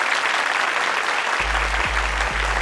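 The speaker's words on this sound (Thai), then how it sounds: "ขอเสียงปรบมือนะครับให้กับอีก4นวัตกรรมที่เหลือด้วยนะครับ" Dense, steady audience applause at an innovation awards show, loud and continuous, with a low rumbling hum entering partway through.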